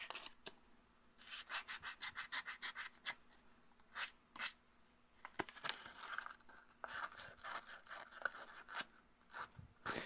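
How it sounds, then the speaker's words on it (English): Sandpaper rubs back and forth over an airsoft cylinder in quick rhythmic strokes, close and fairly quiet, with short pauses between runs of scratching. "Some sandpaper. Oh, that's not gritty enough."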